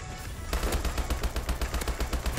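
Rapid automatic gunfire in a futuristic multiplayer shooter game, a fast regular burst of sharp shots starting abruptly and continuing steadily, loud and up close.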